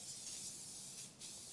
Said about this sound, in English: take some non-stick cooking spray and give your bundt tin a really good spray.